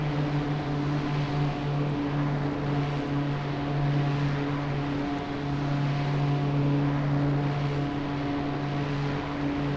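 A simulated Dornier Do 328 turboprop airliner in flight in X-Plane 11 gives a steady, even engine drone with a constant low hum and broad rushing noise throughout, with no voices.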